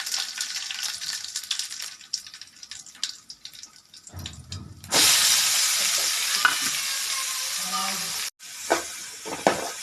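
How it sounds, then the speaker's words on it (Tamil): Onion and a dried red chili sauté in oil in a pan with urad and chana dal, first a light crackle under stirring, then a loud steady sizzle with scraping stirs near the end. "வதக்கி எடுத்துக்கலாம்."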